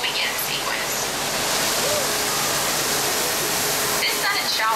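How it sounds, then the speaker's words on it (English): Heavy rain effect from a row of water nozzles spraying over a theme park studio backlot tour tram, a loud, steady hiss of falling water throughout, with voices heard briefly near the end. "This sudden shower is really just a special effect. We've rigged up a series of water nozzles just above your tram."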